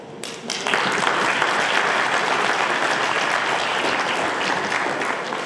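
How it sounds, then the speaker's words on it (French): An audience at a debate competition final in Lille breaks into loud, sustained applause after a brief quiet start, a dense crowd clapping at close range that fades slightly at the end. "on les applaudit"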